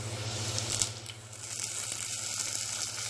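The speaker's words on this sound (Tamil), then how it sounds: "இப்போ தக்காளியை புழிஞ்சு விட்டுக்கலாம்." Tomato squeezed by hand into a pan of sizzling fish curry, a steady close crackling fry with soft wet crushing noises over it, no voices.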